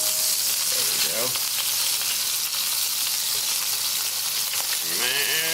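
Food smashed down with an oiled spatula on a hot cooking surface, over a constant loud, close sizzle of frying, with a couple of brief scraping presses and no talk.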